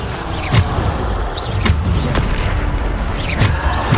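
Bombarda spell blasts in the video game Hogwarts Legacy, several deep booming impacts at irregular intervals over a loud, continuous rumble of game sound.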